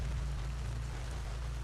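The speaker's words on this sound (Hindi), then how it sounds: "तेज बारिश होने लगी" Heavy rain pours down steadily as a constant wash of broadband noise with a low rumbling undertone, continuous and unbroken throughout, with no voices.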